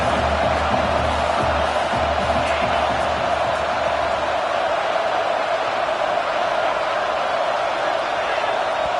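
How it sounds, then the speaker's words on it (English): Stadium crowd noise from a Colorado versus Texas college football video game, a steady loud roar of rumbling fans filling the whole stretch without letup. "with this place rocking, the crowd forces a false start"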